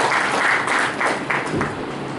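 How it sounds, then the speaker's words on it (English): Audience applause at an inauguration ceremony for a centre for disability studies and health laws, a steady dense wash of clapping from a hall full of people, loud and continuous throughout. "So big round of applause for the painting that you see"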